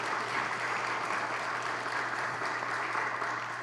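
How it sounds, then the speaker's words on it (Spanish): Guests at a children's book launch applaud together, a sustained, even patter of many hands over a low steady hum from the room's sound system. "un aplauso para esta ocasión en que nos encontramos"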